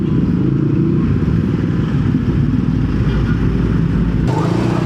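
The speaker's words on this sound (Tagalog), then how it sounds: "Nakita nyo yung hugong na yung yun ang malakas sa gas" A Yamaha Nmax Techmax 155 scooter with an upgraded CVT drones steadily in city traffic, a loud, close, continuous low engine hum with a slight change near the end.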